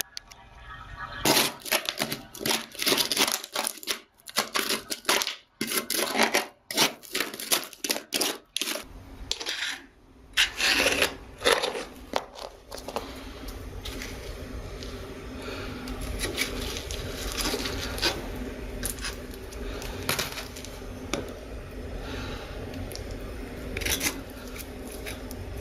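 Old bathroom floor tile is pried up during a small remodel, bringing close, sharp clacks, cracks and clattering pieces in irregular bursts, then a steadier scraping, gritty rustle in the second half.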